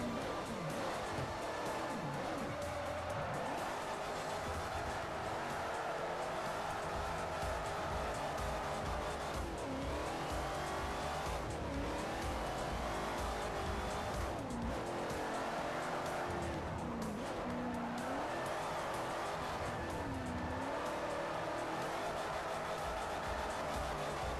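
A Plymouth Hemi Cuda drifting in the video game Forza Horizon 4, its engine roaring continuously while tires squeal in repeated rising and falling wails through each slide, loud and close with no talk.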